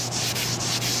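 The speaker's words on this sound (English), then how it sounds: "So while sanding that, I noticed that I needed just a little bit of filler in some areas" Sandpaper of 400 grit rubbing across a car body panel during dent repair prep, a steady close scratchy hiss with light back-and-forth stroke rhythm, loud and alone with no talking.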